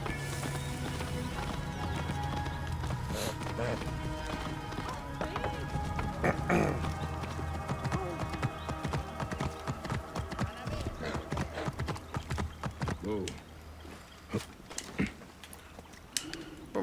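Rhythmic clip-clop of a horse's hooves at a fast gallop in Assassin's Creed Origins, steady and close, with a brief whinny and sparse game sound effects.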